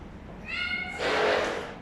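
A cat gives a single clear meow followed by a breathy, hissing rasp, close by and fairly loud, in a room kept specially for pet cats.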